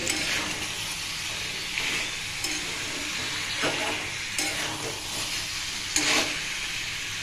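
Jackfruit and potato curry stir-fries in a pan with a steady sizzle, broken by several sharp scraping strokes of the spatula, close and continuous, with no talking.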